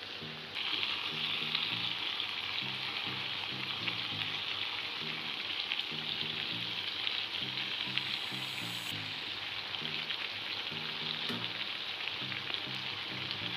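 Homemade mango pickle frying with spice powder while being stirred, with a constant soft sizzle and crackle like light rain and faint, regular stirring beneath it, no talking.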